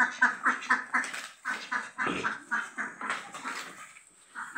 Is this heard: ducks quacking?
yes